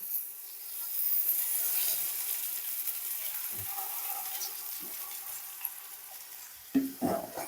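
Onions frying in oil in a pan for biryani, a steady soft sizzle with occasional stirring scrapes and a louder clatter near the end, no talking.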